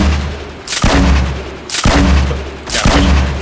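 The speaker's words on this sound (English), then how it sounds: "There's a grenade in there." Three loud, booming grenade blasts from the Fortnite battle royale game, spaced roughly a second apart, each a sharp heavy burst trailing into a rumbling low decay, up close with no voices.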